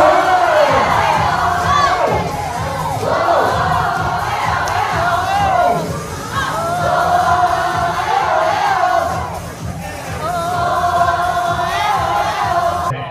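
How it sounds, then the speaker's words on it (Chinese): Guests at a Keelung press-conference dance performance clapping and cheering loudly, a sustained crowd roar with rising shouts in waves, no speech over it. "市政府民政处长张渊祥和舞者挑战16蹲，获得在场来宾拍手叫好"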